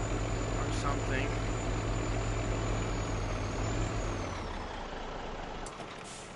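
Heavy truck idling loud and close in a Farming Simulator game, a low steady engine drone with sharp air-brake hisses, fading lower toward the end.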